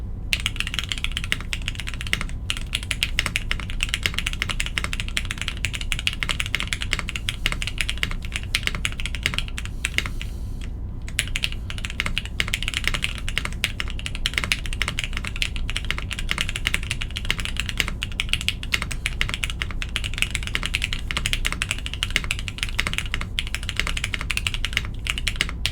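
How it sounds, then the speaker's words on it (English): Fast, continuous typing on a custom Jane V2 CE gasket-mount mechanical keyboard with GMK keycaps in ISO layout, close clacking keystrokes with a brief pause midway and no talking. "Let's see what it sounds like."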